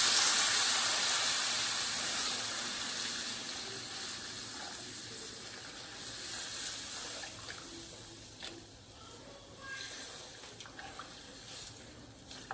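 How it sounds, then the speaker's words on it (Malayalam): Boiled milk pours into a pan of sautéed vermicelli, a steady broadband wash of liquid that starts strong and slowly fades, with faint kitchen clinks near the end and no talking. "ഇനി അതിലേക്ക് ഒരു 4 കപ്പ് തിളപ്പിച്ച പാല് ഒഴിക്കുക."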